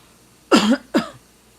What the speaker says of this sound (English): Give me 1 second, I'm coughing.